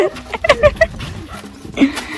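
A dog whimpering nearby, a few short high whines and yips in quick succession, fairly loud and close with little else around.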